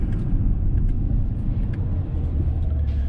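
Inside a 2021 Range Rover Sport SVR in manual sport mode, the engine rumbles low and steady with a subdued drone through the cabin, without distinct downshift blips standing out.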